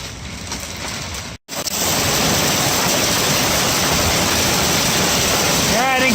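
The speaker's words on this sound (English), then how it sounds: "It's hailing, raining, windy, everything all at once." Hail, rain and wind beat steadily on an uncovered boat at Flaming Gorge, a loud, constant roaring wash of noise that barely breaks once before continuing unbroken.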